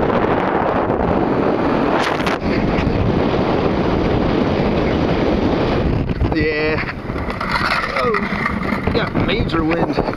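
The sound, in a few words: strong wind on frozen ice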